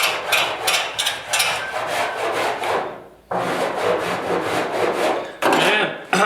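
Hand file rasping across hardened body filler on a 1969 Bronco during rust repair, a steady run of close, loud scraping strokes with a short pause near the middle and a final burst at the end.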